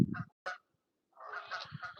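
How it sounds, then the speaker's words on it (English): Waterfowl call out on the water, giving a loud honk, a short second call, then a longer run of rapid overlapping honks. "Couple of ducks down there."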